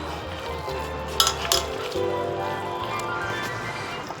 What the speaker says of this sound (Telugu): కొంచెం శనగపిండి వేసా మళ్ళీ మిక్స్ చేసేసుకోవాలి